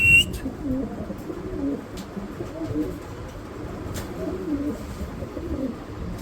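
Spanish pouter pigeons coo steadily in a loft, low rolling calls repeating close by over a continuous murmur, with a few faint clicks and rustles.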